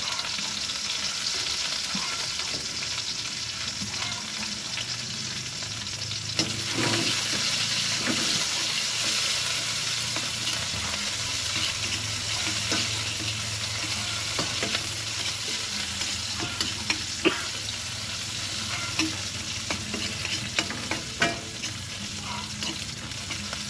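Onions sizzle steadily in a hot frying pan with a loud, constant crackle, while a utensil scrapes and stirs at irregular moments throughout.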